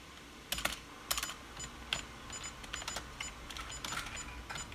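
Keys clatter on a Sun computer keyboard attached through a USB adapter, a close run of crisp, irregular clicks and taps with a few louder strokes, no talking.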